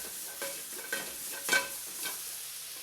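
Onions frying in olive oil in a very hot pan as they caramelize, a steady close sizzle broken by a few louder stirring scrapes, with no one talking.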